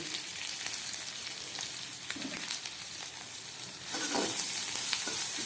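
Grated ginger, green chili and cumin fry in hot oil for a sabudana dosa, giving a steady close sizzle with a few soft stirring scrapes, growing brighter and louder near the end.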